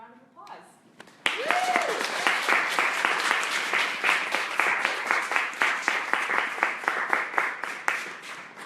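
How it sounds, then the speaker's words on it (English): Steady applause from an audience, a dense burst of many hands clapping that holds loud and even, with a brief voice just before it starts. "Help me give her a round of applause."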